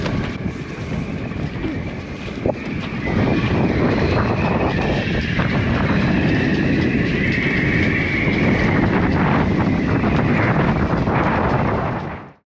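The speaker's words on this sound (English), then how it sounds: "Bit more wind than forecasted, so we decided not to leave today." Strong wind at sea around a moored sailboat in harbour on Bornholm, a steady loud roar with microphone buffeting that swells after a few seconds and holds until the end, with no voices.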